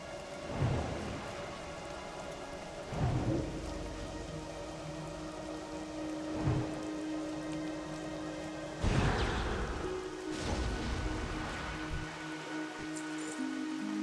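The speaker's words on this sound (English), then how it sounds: "Honestly, I'm not really digging the rain." Steady rain pours in World of Warcraft TBC Classic. Several deep thunder rumbles roll in and fade at intervals, and game tones sit faintly beneath the hiss.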